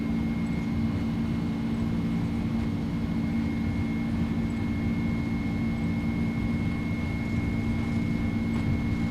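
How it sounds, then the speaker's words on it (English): Airbus A300-600R engines spool up for takeoff in a flight simulator, a steady, loud, even jet drone with a thin high whine running through it and no voices over it. "Engines are spooling up."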